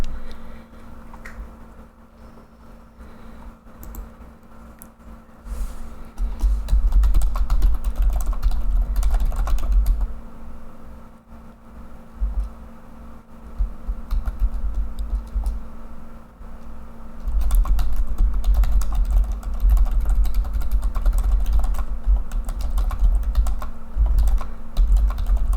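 Someone types steadily on a computer keyboard during a Lord of the Rings Online session, quick clattering keystrokes close by that run in bursts and pauses over a low background hum.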